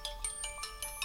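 A mobile phone ringtone plays a quick, bright repeating electronic pattern of rapid pulses, fairly close and alone.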